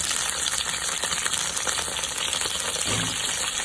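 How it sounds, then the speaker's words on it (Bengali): Large-cut ginger and onion frying in oil for chicken kasundi, a loud, steady hissing sizzle close up, with a brief rattle of stirring near the end. "বড় বড় করে আমি কেটে রেখেছি পেঁয়াজ, সেটাকেও তেলে দিয়ে দিচ্ছি"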